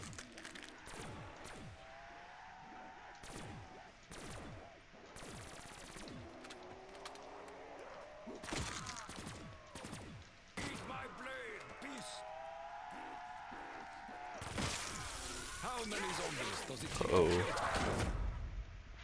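Impaler gun in The Giant video game firing at creatures: repeated sharp shots and bursts, growing into a dense barrage near the end, mixed with game noise and talk.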